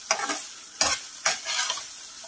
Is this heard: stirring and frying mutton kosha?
yes